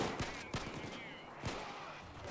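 Gunfire in the heist shooter Payday 2: a few sharp shots cracking out at irregular intervals over a busy, noisy game soundscape.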